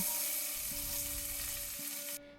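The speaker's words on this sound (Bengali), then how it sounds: "এক টেবিল চামচ সর্ষের তেল দিয়ে তাতে একের চার চামচ জিরে দিয়ে দেবো জিরে ফাটতে শুরু করলে দুটো কুচনো পেঁয়াজ যোগ করব" Cumin seeds and chopped onions frying in a tablespoon of mustard oil in a kadai, a steady, close hiss of sizzling with no voices.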